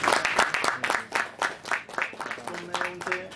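Applause at a celebration for Bharat bhai and Sushila bhabhi, heard as fairly sparse, distinct claps in an uneven rhythm with a few voices murmuring faintly underneath.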